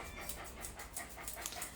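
Quick, rhythmic panting from a medium-sized show poodle during a grooming session, faint and steady with regular breathy puffs and no talking.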